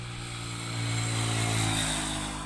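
A motorbike with a rough-sounding engine passes along a quiet, empty road, its drone swelling as it nears and fading again over a couple of seconds.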